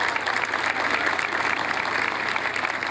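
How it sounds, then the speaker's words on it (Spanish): Crowd applauding the priests at a patron saint festival in Coronel Moldes, a dense, even wash of clapping that stays loud and steady throughout with no speech. "Le damos un fuerte aplauso a los sacerdotes que nos acompañan."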